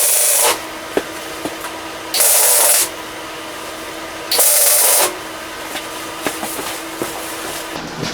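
Tack welding heater mounting tabs for a Hot Dawg 60,000 BTU heater: three short hissing, crackling bursts of under a second each, separated by quieter stretches with faint clicks and handling noise.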